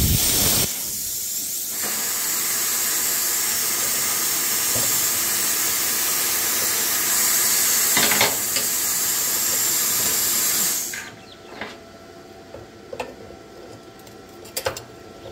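Arccaptain Cut55LED 55 amp plasma cutter slicing through mild steel, a loud, steady hissing roar that runs for about ten seconds before cutting off abruptly, leaving faint clicks and the quieter sounds of the shop.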